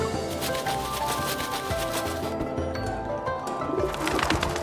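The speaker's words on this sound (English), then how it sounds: "2 pigeons fly out, one after another." Pigeons cooing in the Times Banquet game, a soft, steady burble of coos set low under a dense bed of background music and ambience.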